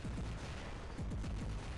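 Rapid bursts of gunfire from robots in the War Robots game, dense repeated booming shots in quick clusters over a constant loud background rumble.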